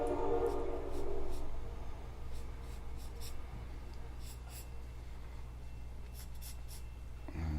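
A pencil drawing a portrait on paper, a soft continuous scratchy rasp of strokes running throughout, faint and close, over a low steady background hum.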